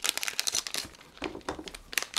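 Plastic packaging of a Lego Simpsons minifigure blind bag crinkles in quick, irregular bursts as fingers squeeze and feel the figure inside, close up and alone.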